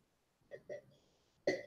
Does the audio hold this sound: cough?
yes